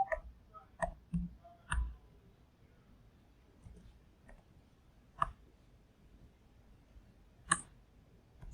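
Sparse, crisp mouse clicks sound in a quiet room while selecting stainless steel as a material in Fusion 360 design software, scattered single and double clicks separated by silence.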